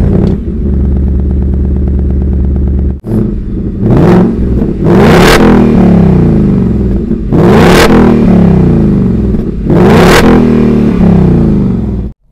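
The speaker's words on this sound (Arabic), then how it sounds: "لازم نسمعكم صوت الإكزوست" A Ford Mustang Mach 1's V8 exhaust idles with a deep burble, then revs hard four times in quick blips, each roar rising and falling, loud and close with no talking.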